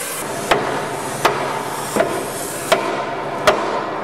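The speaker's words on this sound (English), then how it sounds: "Stability and durability is received by heat and hammer." At a railway workshop forging demonstration, a hammer strikes hot metal five times at a steady rhythm of about one blow every three-quarters of a second, each a sharp, ringing impact over constant workshop noise.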